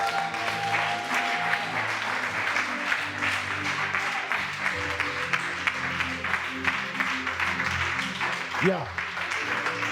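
Church congregation applauding during a French-language Sunday sermon, a steady dense clatter of clapping that fills the whole stretch, with voices calling out over it.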